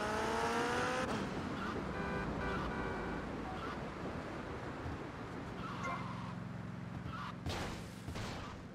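A car drives up a road in GTA Vice City, its steady engine and road noise holding as a continuous, fairly loud wash with no talking.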